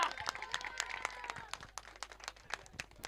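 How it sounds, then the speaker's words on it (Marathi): Applause from the audience at a prize ceremony for the Prashant Chashak 2025 season 14 tournament, a steady patter of many hands clapping close by, with no talk over it. "टाळ्या."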